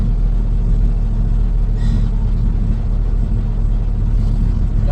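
A Chevrolet Monte Carlo with an LS engine swap drives along, its engine a steady, loud low rumble from inside the cabin with no speech over it.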